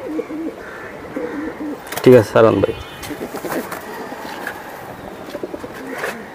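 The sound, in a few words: pigeons cooing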